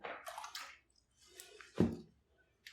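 Clear water washed over watercolour paint on Hahnemühle 140lb rough paper, heard as a few short splashing, sloshing bursts with quiet pauses between them, close and fairly soft.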